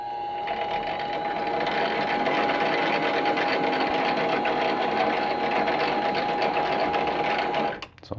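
A lathe running on power feed while cutting a 0.5 mm pitch thread on a small replacement part for a Rotring 600 Trio pen: a steady, even mechanical whir with a constant tonal hum, stopping abruptly at the end.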